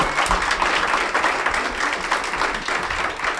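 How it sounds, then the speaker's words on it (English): Audience applause at the end of a keynote talk, a dense, steady wash of many hands clapping throughout, loud and close, with no talk over it. "let's give a round of applause before we do some questions."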